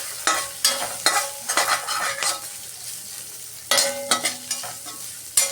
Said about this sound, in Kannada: ಈಗ ಈರುಳ್ಳಿ ಚೆನ್ನಾಗಿ ಇದರಲ್ಲಿ ಫ್ರೈ ಆಗಬೇಕು.